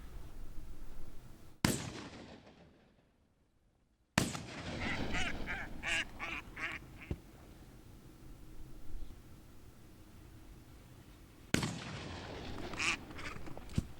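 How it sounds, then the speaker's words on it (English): Teal ducks dropping onto water during a public-land duck hunt in Colorado, with duck calls and splashy bursts, several abrupt loud onsets breaking the steady outdoor background, no talking. "a bird landing right in front of him and right behind him"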